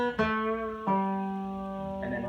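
Electric guitar lick from the intro of a song: a sustained note bent up a half step, released, then hooked and pulled off to a lower note, played alone and clearly.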